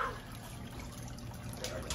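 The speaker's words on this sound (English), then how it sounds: "Little waterfall action right there" Water from a newly set-up aquarium filter trickles like a little waterfall, a soft, steady splashing close by with no talking.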